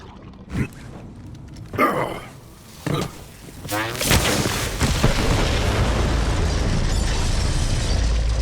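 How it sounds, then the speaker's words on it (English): Several deep booming blasts of set bombs go off in succession in Borderlands 3, followed by a sustained rumbling roar that lingers and echoes through a forest, with game-like sound effects. "The explosion echoed through the forest"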